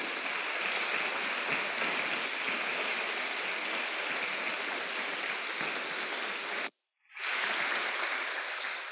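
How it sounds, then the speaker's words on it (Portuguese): A church congregation applauds in a steady, dense wash of clapping that fills the hall, cutting out briefly near the end before resuming just as strongly. "dá um aplauso bem lindo para ele"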